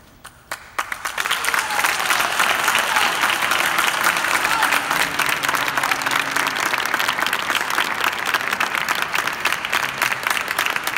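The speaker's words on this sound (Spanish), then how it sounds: "Un super aplauso a Javier, que ho ha fet fenomenal." Sustained, loud applause from an audience fills the room for about ten seconds after a few scattered opening claps, steady and dense throughout.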